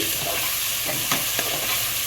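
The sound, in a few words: tomatoes stirred and frying in pressure cooker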